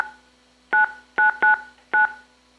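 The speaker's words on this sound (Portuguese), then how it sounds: "Um barulho de telefone." A telephone sound sample: four short keypad tones beep in an uneven sequence over a quiet electronic hum.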